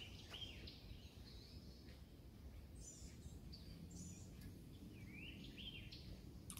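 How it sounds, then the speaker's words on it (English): Small birds chirping and trilling outdoors in nature, several thin calls scattered over a faint low rumble, moderately distant and quiet throughout. "You can hear the birds chirping right here."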